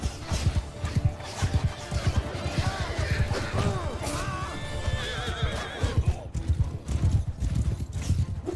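In the Bannerlord video game, a horse whinnies loudly and close over rhythmic clip-clopping hooves, with a rising neigh in the middle and people talking throughout.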